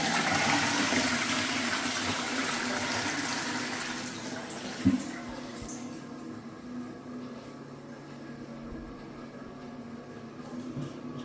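A newly installed toilet flushing in a bathroom, with a loud rushing gush of water that fades after about five seconds into a quiet refill trickle and low hum.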